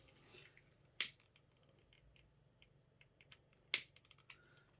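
Scissors slice through folded hat veiling with two crisp, close snips, one early and one near the end, separated by faint clicks and light handling noise in a quiet room.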